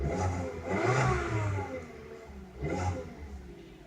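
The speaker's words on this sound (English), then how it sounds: "And you hear the 4-cylinder purr" The 1.4 TSI four-cylinder engine of a 2018 Volkswagen Jetta runs at a low, even idle, with a soft purr that swells slightly a couple of times.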